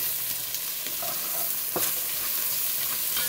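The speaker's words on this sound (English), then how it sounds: "I'm going to add some fresh garlic there that I chopped up. And I'm going to add in some onions." Fresh chopped garlic and onions sizzle steadily in a pot over medium-high heat, a continuous close frying hiss broken by a few brief clinks and stirring scrapes, with no talking.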